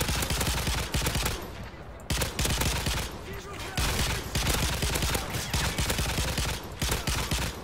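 Rapid, dense gunfire from the Spec Ops shooter game, near-continuous bursts of automatic fire with brief gaps, loud and close throughout the whole stretch.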